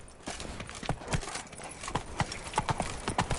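A horse trotting in The Witcher 3, with a steady run of close hoof clip-clops on hard ground.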